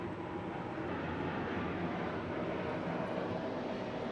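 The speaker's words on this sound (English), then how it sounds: "The sound is fucking it up. The plane." An airplane passes overhead outdoors as a continuous, broad, low engine roar that holds fairly steady in strength and stays faint to moderate, with no talking.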